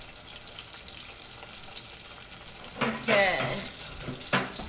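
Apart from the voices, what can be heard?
battered apple slices deep frying in oil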